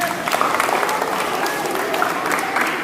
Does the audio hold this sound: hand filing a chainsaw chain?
no